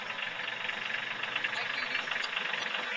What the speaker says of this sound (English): here's Jason driving a tractor for the very first time in his life